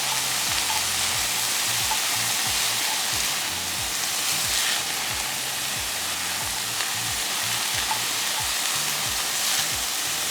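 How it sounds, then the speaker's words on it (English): Cabbage and kale sautéing in a pan with plant-based taco filling, a steady dense sizzle and hiss filling the whole stretch, loud and close with no voices. "This has been sauteing for a while. I'm going to add in cabbage and kale."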